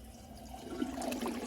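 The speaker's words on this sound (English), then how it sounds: "you can see the flush is a little sluggish" A 2002 Crane Atlas toilet flushing a little sluggishly, a brief soft swirl and gurgle of water rising slightly toward the end, faint and close.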